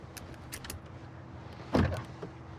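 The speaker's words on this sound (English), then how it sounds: "Power door locks, standard," Car power door locks engage with a single quick mechanical clunk, near and fairly loud, surrounded by quiet cabin rustle.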